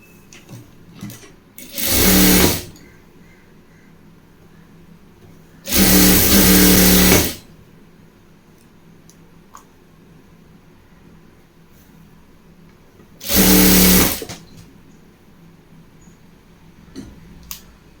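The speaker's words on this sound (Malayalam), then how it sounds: "അതുപോലെ മടക്കി തയ്ക്കുക." A sewing machine stitches a folded pant hem in three short, loud bursts of rapid whirring, with quiet handling noise in the gaps between runs.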